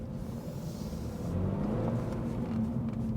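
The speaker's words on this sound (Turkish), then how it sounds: "Japon aracını bir de yolda deneyelim" A 2022 Toyota GR86 sports car driving on the road, a low steady engine drone heard from inside the cabin that swells slightly as it picks up speed.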